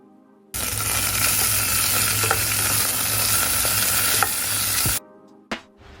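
Large red onions hitting hot oil in a pan and being stir-fried, with a loud, steady sizzle that starts suddenly, a few scrapes of the utensil, then stops with a light clink, no talk.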